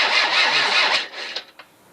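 A Citroën CX 2200D diesel engine cranks on a new starter without firing, a close, loud churning whir lasting about a second. It winds down into a couple of sharp clicks and then falls silent.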